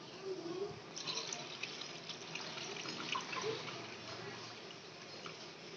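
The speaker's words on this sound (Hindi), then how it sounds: "अब हम इसमें आखिर में दूध शामिल करेंगे।" Milk poured into a khoya and date shake in a blender jug, a soft continuous liquid splash and trickle lasting several seconds, close and gentle with a faint background hiss.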